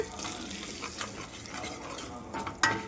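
Salted food fries in a pan with a steady, close sizzle and occasional stirring scrapes, ending in a sharper clatter.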